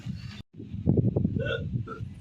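Repeated hiccups from someone after eating spicy pani puri, a few short jerky bursts close to the mic and mixed with light vocal noise.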